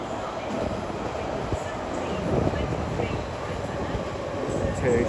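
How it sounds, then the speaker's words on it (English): A Class 345 electric train departs Stratford station on the Great Eastern Main Line, giving a steady broadband rumble and rolling noise with a faint high whine throughout. "we now find ourselves 345-012 departing off on the"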